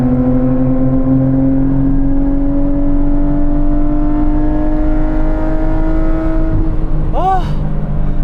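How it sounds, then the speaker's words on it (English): A Nissan GT-R R32 with an aftermarket exhaust pulls hard, its engine note climbing in a long steady rev, loud and close, with a brief chirping burst near the end. "this aftermarket exhaust"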